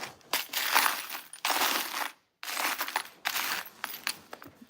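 Loose pieces of COE 96 art glass clink and rattle as they are stirred together by hand, bright jangling bursts in several bouts with a short silent pause between them.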